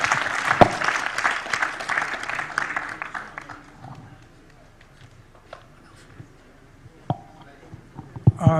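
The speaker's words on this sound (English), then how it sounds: "give a big clap to all the panelists who have been contributing to this process" An audience at a panel session applauds in a dense burst that fades over a few seconds, followed by scattered claps, footsteps and murmurs in the hall.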